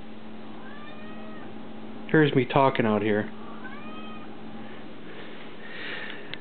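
A house cat lets out a cluster of loud, drawn-out meows at close range lasting about a second, while someone talks nearby.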